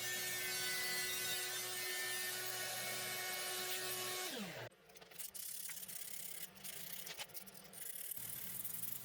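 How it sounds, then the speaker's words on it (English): A Firebird guitar kit body is sanded. A steady high powered whine winds down and stops, then gives way to rough, uneven scraping strokes up close. "You really have to just love the sanding."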